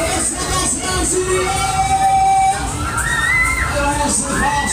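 Riders scream and whoop on a funfair ride at a Steven Hill funfair in Walsall, the shrill cries rising and overlapping in a loud, continuous crowd din.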